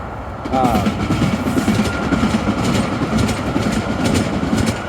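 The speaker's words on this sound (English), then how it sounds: "Train." A train rumbles steadily past at close range, a loud continuous roar with rhythmic clatter from the wheels and a faint tonal whine, holding throughout.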